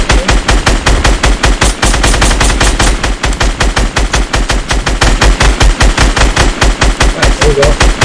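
Rapid automatic gunfire in a first-person shooter video game, a loud close stream of evenly spaced shots rattling without pause for several seconds.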